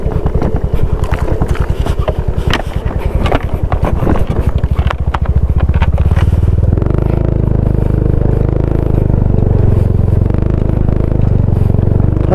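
A Yamaha NMAX scooter rides along near a campsite in Tarlac, its engine droning steadily under a buzzing, rapid pulse that smooths into a loud continuous rumble with wind buffeting the microphone.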